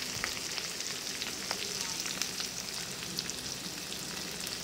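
Ginger paste frying with turmeric, salt and cumin powder in a pan, a dense continuous sizzle with faint stirring scrapes, close-up and without talk.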